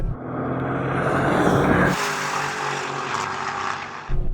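A Lamborghini Urus roars in during a race against a Brabus 850 and a Tesla Model X Performance, its engine note swelling loud and close before easing to a steady rushing drone.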